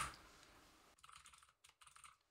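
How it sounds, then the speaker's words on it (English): A quick, close run of keystrokes on a computer keyboard, entering notes in ZBrush, with clattering bursts broken by short pauses, preceded by a steady hiss. "So we can just type in whatever you like in here."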